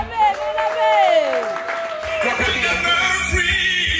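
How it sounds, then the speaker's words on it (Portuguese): An audience at an album launch show and autograph session claps and cheers as a singing voice fades out. Loud, steady applause follows with scattered whoops. "Aquelas palmas, faz favor."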